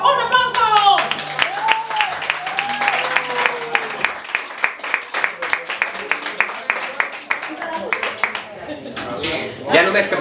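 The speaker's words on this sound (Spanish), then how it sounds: "Un aplauso!" A live audience at a rock show in a parish hall claps in a dense, sustained burst after a call for applause, with a voice talking over the clapping at first, then scattered claps and cheers trailing off.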